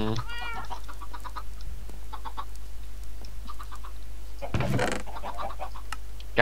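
Chickens cluck in Minecraft, a few short clucking calls near the start and scattered through, moderately loud over a quiet game background with no speech.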